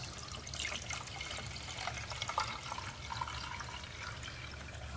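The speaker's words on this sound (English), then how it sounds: "I'm going to take some warm water and some cold water, and I'm going to pour it into this special box" Warm and cold water poured into a box for a density and temperature demonstration gives a steady, faint wash of running liquid with a few small splashes, heard alone without talk.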